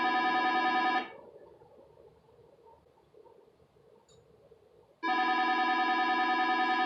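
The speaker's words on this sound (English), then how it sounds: "No one even uses the house phone. Why do we still have this?" A house landline telephone rings loudly with a bright electronic trill. One ring stops, a few seconds of quiet room tone follow, then a second ring starts. No one speaks.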